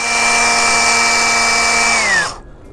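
A power drill whines steadily at high speed while drilling off plastic tabs on a car central door lock motor held in a vise, then winds down near the end; loud and close, with no talk.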